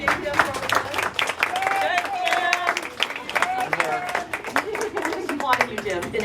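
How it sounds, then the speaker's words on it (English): A crowd at an outdoor street commemoration event claps in scattered, uneven bursts, with individual hand claps audible amid chatter and voices throughout. "Just applauding you, Jim, in absentia."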